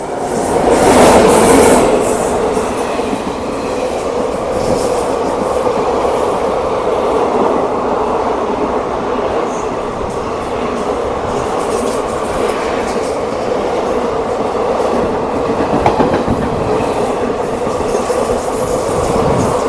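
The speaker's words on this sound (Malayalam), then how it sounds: "5 മിനിറ്റ് ആകുമ്പോഴാണ് നമ്മുടെ ട്രെയിൻ ഇതാ വരണത്." Passenger train hauled by a P7 electric locomotive passes through Koratti Angadi station in the evening, a loud, steady rumble and rolling roar sustained throughout, with no talk.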